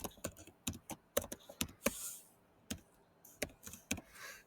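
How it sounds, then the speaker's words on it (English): Someone types a password on a computer keyboard, a quick, uneven run of crisp, close key clicks with short pauses between bursts. "we type in the password"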